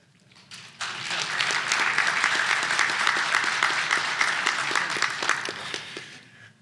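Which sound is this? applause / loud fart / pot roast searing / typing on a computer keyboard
applause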